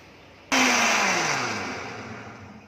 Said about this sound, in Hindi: ऐसे इसको 5 मिनट घुमाऊंगी मिक्सी में